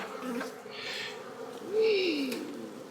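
During a hive inspection, close honey bees buzz steadily, with one rising and falling drone as a bee passes near, and faint voices underneath.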